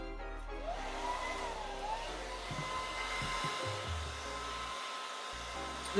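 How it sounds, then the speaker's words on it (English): A blow dryer running on high heat, a steady loud whir holding throughout with a faint rising tone early on, heard alone without talk. "And I'm gonna put the blow dryer to it."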